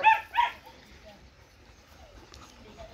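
A Malinois dog gives two quick, sharp barks close by at the very start, then only a low murmur of background noise remains.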